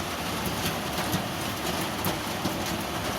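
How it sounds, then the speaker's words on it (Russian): Heavy summer downpour in Yeysk, a dense, unbroken hiss of rain pouring steadily onto streets and surfaces with no talk over it. "Течет ливень."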